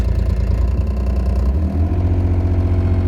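A JCB 8035 mini excavator engine runs steadily and is then throttled up with the hand throttle, giving a loud, close, continuous diesel drone that deepens and strengthens partway through, with no talk over it.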